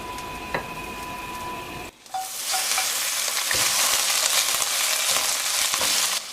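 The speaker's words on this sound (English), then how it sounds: "In a pan of hot butter, the fillets are seared, creating a perfect golden brown crust that locks in moisture and flavor" Salmon fillets hit hot butter in a pan with a sudden loud, steady sizzle that holds close and bright after a quieter opening, with faint clinks underneath.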